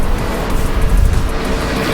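Loud, continuous road traffic noise heard from a moving motorbike, a heavy rumbling roar with wind buffeting and no voices over it.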